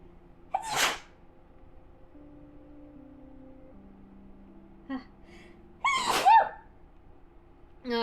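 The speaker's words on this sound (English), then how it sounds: "All that tearing up just activated sneezes." Two sharp sneezes, one near the start and another a few seconds later, each a short explosive burst with quiet in between.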